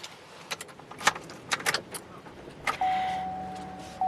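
A 2022 GMC Canyon Elevation V6 truck has its door shut with a few soft clicks and thuds, then a chime sounds and the engine cranks and starts near the end, heard close inside the cab.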